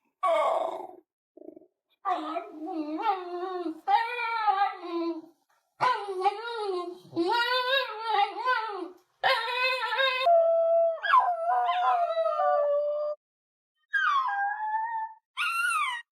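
A Basenji dog lets out a series of warbling, yodel-like howls with rising and falling pitch, separated by short pauses, near and fairly loud.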